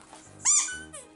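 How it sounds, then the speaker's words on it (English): A cheap pumpkin-shaped squeaky pet toy gives one loud, bright squeak, followed by a shorter, fainter squeak, close by and with no talking. "They both squeak and Pumpkin does not like them"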